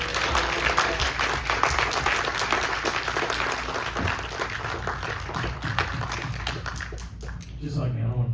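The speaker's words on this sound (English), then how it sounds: "Please everybody give a round of applause to my very good friend, Lane Thompson." Applause from a film premiere audience greeting a guest for a Q&A, a dense, sustained burst of many clapping hands with crowd noise that thins out near the end as a voice begins.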